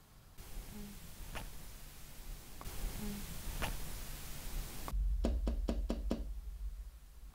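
A few sharp knocks on glass land in a dark room, each one short and separate against a hiss of static. A quick run of louder, tightly spaced raps follows near the end.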